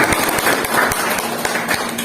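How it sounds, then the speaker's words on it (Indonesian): Audience applause at an educational seminar, steady dense clapping throughout, fairly loud and close, with no talk over it. "tepuk tangan"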